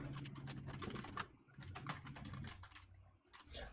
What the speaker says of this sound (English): Intense typing.